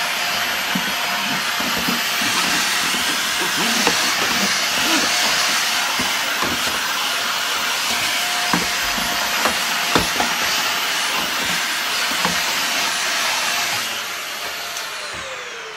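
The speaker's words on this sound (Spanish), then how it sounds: "Le pasamos la aspiradora." A vacuum cleaner runs with a loud, continuous whooshing roar, punctuated by occasional bumps and clicks, before the motor winds down at the end.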